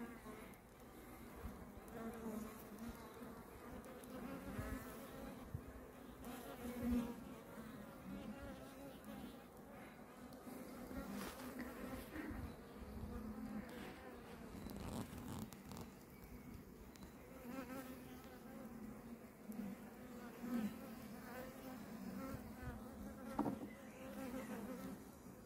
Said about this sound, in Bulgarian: Пчелите се скупчиха около нея.